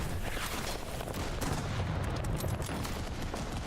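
Faint, dense gunfire crackles continuously from a World War I trench battle in a video game, a steady fusillade of overlapping shots heard at a distance with no voices.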